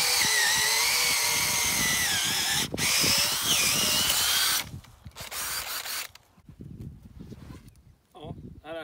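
An old ice-fishing auger driven by a cordless screwdriver drills into garden soil, a loud whining motor with ratcheting, rising and falling pitch for several seconds, then stopping and giving way to scraping, rustling soil and brief restarts.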